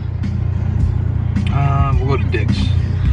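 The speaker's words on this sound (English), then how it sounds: "We're back and now we're in the car. And the AC is way too high." Inside a moving car with the air conditioning running, a steady low hum and rumble fills the cabin while people talk over it.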